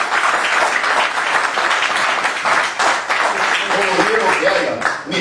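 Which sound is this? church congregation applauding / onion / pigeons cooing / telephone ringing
church congregation applauding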